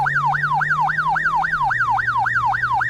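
A police car siren in a children's video game wails in a fast, regular up-and-down sweep, about four cycles a second, loud and alone over a low steady hum that drops slightly midway.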